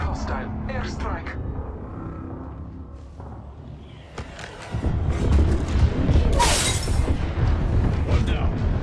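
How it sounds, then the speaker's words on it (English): Airstrike explosions in the video game Apex Legends, heavy booms and rumbling that swell loud midway and keep pounding amid battle noise, with game voices talking over them. "Airstrike."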